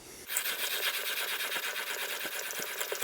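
A primitive wooden pump drill spins against a pile of wood shavings, making a continuous dry, rasping whir with small rhythmic scrapes as it is pumped, heard up close.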